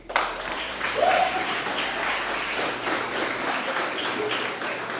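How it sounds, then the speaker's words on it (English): An audience at a youth mentorship graduation applauds as a male graduate is called to the stage, a full, continuous wash of clapping from many hands that stays steady throughout. "a round of applause for Mr. Caden McGee"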